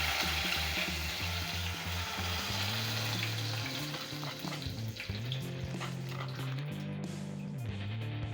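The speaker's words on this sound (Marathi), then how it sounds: "आता आपण फोडणी करून घेऊया तमालपत्र घेतलेलं आहे" Bay leaf pieces fry in hot ghee as a tempering for prawn khichdi, giving a steady, close sizzle. Soft stirring clicks and scrapes sound throughout, with no talking.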